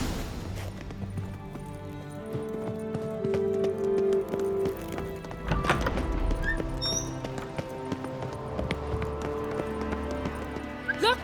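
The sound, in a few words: horse galloping in video game The Witcher 3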